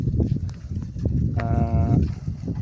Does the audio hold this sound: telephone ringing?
no